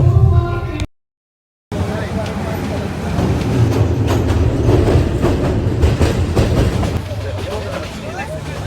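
Passengers sit in a moving train, a loud, continuous rumble and rattle of wheels and carriage with chatter throughout and a brief dropout near the start.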